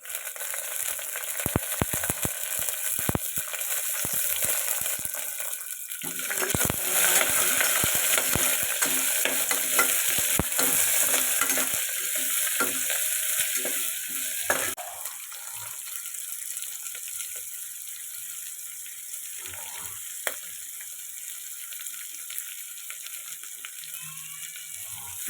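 Onion fries in a pan with ginger, garlic, curry leaves and green chilli for an avarekalu pulao, crackling loudly with repeated stirring clatter for about fifteen seconds, then dropping to a quieter simmering hiss with occasional scrapes.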